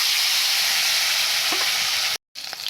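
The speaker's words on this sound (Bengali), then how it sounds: "কিছু আলু দেবো ভেজে নিচ্ছি" Potatoes frying in hot oil, a bright continuous sizzle with a couple of soft stirring knocks, then a short gap before the hiss returns.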